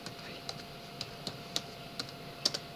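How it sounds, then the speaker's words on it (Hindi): Typing on a computer keyboard, heard as about ten sharp, quiet key clicks at an irregular pace over a faint room hum, with a couple of quick double taps near the end. "जैसे मैं यहाँ टाइप करता हूँ"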